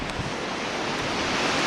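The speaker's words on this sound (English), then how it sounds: "There's the river." A river in the Andean countryside near Piscacucho, Peru: a loud, steady roar of rushing water mixed with wind buffeting the microphone, with no one talking.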